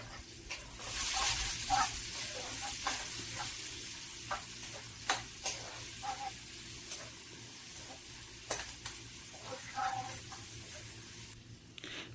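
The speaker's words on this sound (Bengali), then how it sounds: "পেঁয়াজগুলো এখন আমি মিক্স করে নিব" Onions fry in a pan while being stirred, with a continuous sizzle broken by repeated scraping strokes and clicks of the spatula at an irregular pace, close and moderately loud.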